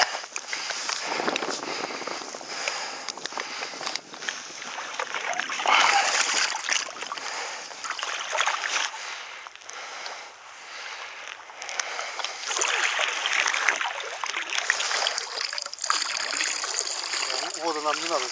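Water being poured out of a container on a fishing outing, a splashing, splattering stream running steadily and fairly close for several seconds, with people talking over it.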